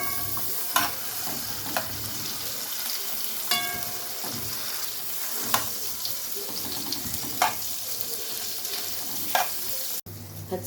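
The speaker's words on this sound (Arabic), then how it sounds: "نقلب كله مع بعضه" Spoon stirring food in a hot frying pan with harissa and chili mixed in, producing soft scraping and occasional clinks over a steady low sizzle, close and alone.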